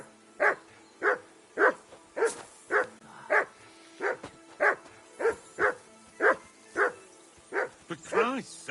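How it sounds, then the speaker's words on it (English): A dog in Kingdom Come Deliverance 2 barks repeatedly at a steady pace, about a dozen loud, close woofs in a row, finishing with a whining yelp. "call off that damn dog before he wolfs down the last of our mates"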